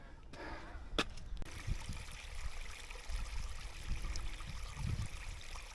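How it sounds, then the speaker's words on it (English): A babbling brook trickles steadily on top of a moor, a faint, continuous low burble of running water with a couple of brief sharp knocks near the start. "There's absolutely nothing other than the sound of a babbling brook."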